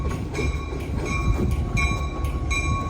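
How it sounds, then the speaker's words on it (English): A train rolls past the town of Port Clinton on the Appalachian Trail in Pennsylvania, a loud close rumble with rhythmic clacking of wheels over rail joints throughout. "There's a train going by."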